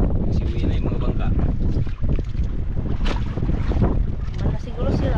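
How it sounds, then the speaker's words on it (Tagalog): Fishing boats returning to shore on a squid-fishing trip at sea, with a continuous rumble of engines and water mixed with heavy wind buffeting the microphone, loud and steady. "Nagsiuwi na yung mga bangka."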